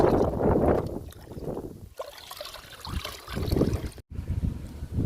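Liquid fertilizer poured over young spinach plants, a close splashing trickle of water in uneven surges with brief pauses and a sharp cut near the end.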